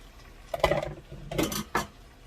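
Chopped green peppers and onions are tipped into a pan of seasoned meat, giving a few close clattering scrapes and clinks of utensil on cookware in short separate bursts.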